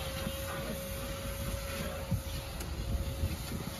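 A vacuum cleaner runs continuously inside a car at a cheap Delhi car wash, giving a steady droning whoosh with a constant whine and no break, no voices over it.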